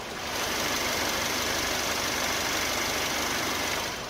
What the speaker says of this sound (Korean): 이제 엔진 소리 한번 들려드리도록 할게요.